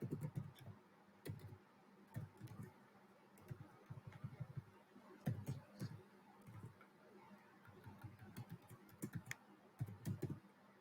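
Steady typing on a computer keyboard, with quick irregular bursts of clicky keystrokes close by, pausing briefly between runs.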